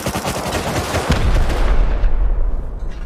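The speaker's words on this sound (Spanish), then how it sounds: "Metele un par de tiros, ¿podéis?" Rapid bursts of gunfire crackle through the first second in the video game Rust, followed by a heavy rumbling boom that lingers and fades.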